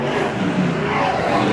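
Super saloon race cars roaring down the main straight at Beachlands Speedway in New Zealand during the 2023 championship, a loud continuous engine rumble with no voices over it.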